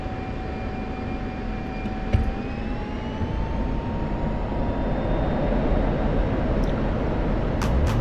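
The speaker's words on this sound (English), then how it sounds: "We're just gonna get on the runway and go." A small airplane's engine roars as it accelerates down the runway for a night takeoff. The loud, steady drone climbs gradually in pitch, with a sharp click near the start.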